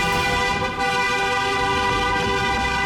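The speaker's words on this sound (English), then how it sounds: "she refused and kept honking." A car horn blares loudly and almost without pause while a driver tailgates another car, one long sustained honk broken only by a brief dip.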